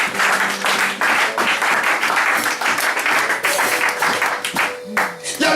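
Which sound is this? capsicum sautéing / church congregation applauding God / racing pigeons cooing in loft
church congregation applauding God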